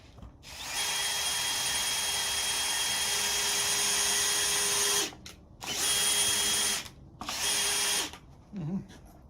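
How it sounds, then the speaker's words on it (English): A power drill whines loudly while carving a wooden cardinal, running continuously for about four seconds, then in two shorter bursts, before a brief trailing sound. "this is a drill."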